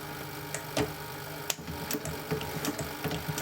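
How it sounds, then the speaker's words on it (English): A 114k103 sewing machine driven by a servo motor through a wooden drive wheel stitches slowly, giving an uneven series of close mechanical clicks and thumps over a low hum. "Now I've already got it threaded and it's sewing, so I'm going to show you how that works."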